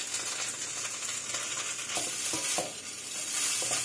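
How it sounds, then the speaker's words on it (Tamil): Bee hoon rice noodles are tossed and stirred in a hot pan, with scraping, rustling strokes over a constant low sizzle, close up and without voices. "நல்லா கிளறி விட்டுக்கோங்க"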